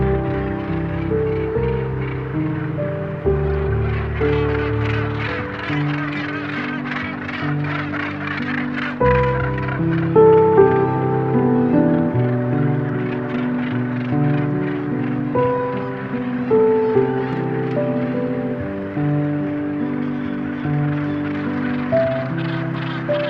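A northern gannet colony on a seabird cliff at sunrise calls loudly and continuously, with harsh overlapping croaks and grating cries from many birds at once.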